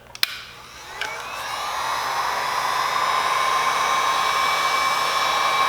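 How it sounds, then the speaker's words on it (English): A heat gun blows steadily on leftover emblem glue on a car, clicking on and spinning up into a continuous, close, even whooshing hum that holds for several seconds. "we're gonna take my heat gun and we're gonna heat up where the glue is still left on at."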